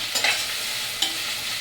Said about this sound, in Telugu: ఈ అల్లం వెల్లుల్లి పేస్ట్ అనేది పచ్చివాసన పోయే వరకు కొంచెం వేయించుకుందాం